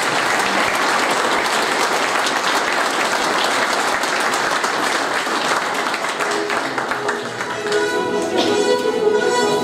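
Sustained applause fills a hall at a municipal sports awards gala, dense and even clapping from a large audience that carries on for several seconds with little talk.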